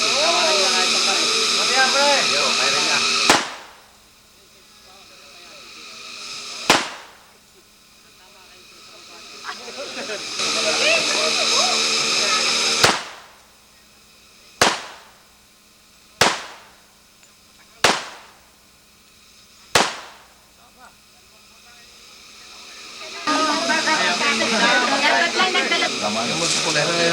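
Single gunshots crack out during firing practice, about seven sharp loud reports spaced a few seconds apart, with hissing noise and voices filling the stretches before and after.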